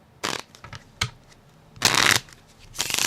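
A person mimics card shuffling with their mouth during a live Disney Lorcana card game, making several short, breathy riffling bursts separated by brief pauses, close and fairly loud.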